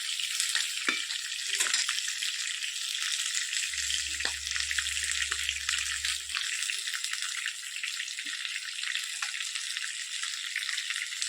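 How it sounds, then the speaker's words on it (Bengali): Cauliflower frying in a pan for a Bengali rohu fish curry with potatoes, giving a steady bright sizzle throughout, with a few soft stirring scrapes and clinks and a brief low hum in the middle. "একটু ভাজা হচ্ছে তো একটু সময় লাগবে, একটু ভালো করে ফুলকপিটা একটু ভালো করে ভেজে নেব।"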